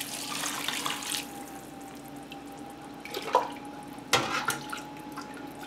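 Homemade broth is poured into a pot for Indian-style chicken soup, with short splashing bursts of liquid between quieter stretches over a faint steady hum.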